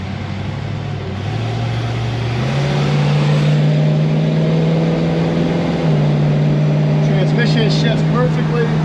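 A 1966 Ford Mustang on a test drive, its engine humming steadily from inside the car and rising in pitch as it accelerates and shifts, with brief light clicks near the end.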